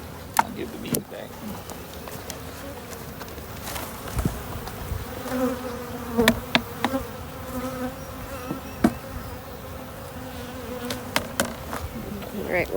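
Honeybees buzz steadily around backyard hives and a swarm box, a close, continuous droning hum with individual bees passing near, plus occasional clicks and knocks of hive handling and a few brief words from people.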